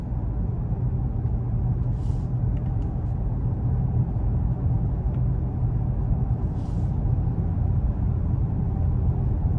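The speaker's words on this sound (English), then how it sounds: "So very good turbo boost from the engine, and it doesn't get at all too loud" A 2020 Lincoln Continental with a twin-turbo V6 cruises along in a steady, subdued low rumble of engine and road noise, with faint higher hiss in the background and no sharp changes.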